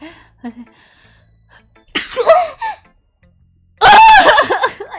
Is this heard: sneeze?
yes